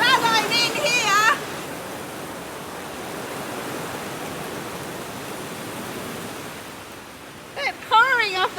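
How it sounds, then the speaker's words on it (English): Heavy spring rain shower pours steadily as a dense broadband hiss heard from indoors beside a garden, with a person talking briefly at the start and end. "They said heavy showers. This is certainly heavy."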